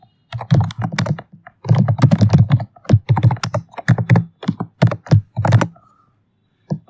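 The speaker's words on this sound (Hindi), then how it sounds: "रिलैक्सिंग साउंड वाला फीलिंग आता रहेगा जब मैं टाइप करता हूँ" A computer keyboard is typed on at close range during C programming, with quick clacking key strikes in bursts separated by short pauses, ending in silence.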